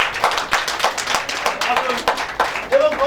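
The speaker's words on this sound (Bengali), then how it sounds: "তার জন্য একটা জোরে হাততালি হোক" An audience at a company presentation during a Vijoya Sammelani gathering in Kolkata claps in quick, brisk bursts close by, with voices mixed in near the end.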